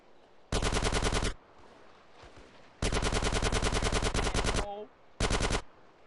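Gunfire in GTA San Andreas: three loud, rapid automatic bursts of machine-gun fire, the middle one longest, separated by brief quieter gaps with faint game noise.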